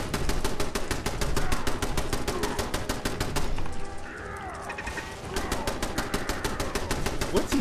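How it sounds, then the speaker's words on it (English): Gunshots in Fallout 4 sound as a long run of sharp, evenly spaced cracks that pause briefly in the middle and then resume, loud and close over faint background game sounds. "Two shots."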